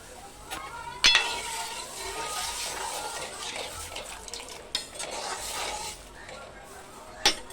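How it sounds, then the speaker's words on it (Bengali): Spices tempered into boiled dal in a home kitchen give a soft sizzle beneath repeated stirring, scraping and occasional sharp clinks of a metal spoon against the pot, with people talking faintly nearby. "আমার ডালটা ফোড়ন দেওয়া যাচ্ছে"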